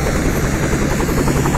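A helicopter on a rescue flight drones loud and close, a steady, unbroken rotor and engine roar with a pulsing beat and no voices.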